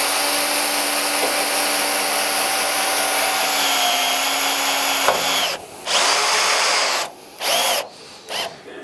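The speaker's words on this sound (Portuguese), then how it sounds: "Aqui eu vou parafusar em cima da estrutura" A power screwdriver drives screws into a steel roof structure, a loud whining motor run that steadies and then breaks into several short bursts near the end, alone without talk.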